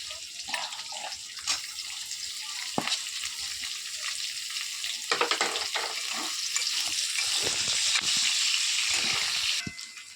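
Onions sizzling and frying in a pan for a minced meat dish, a steady hiss of hot oil with a few stirring scrapes, continuous and close throughout with no talking.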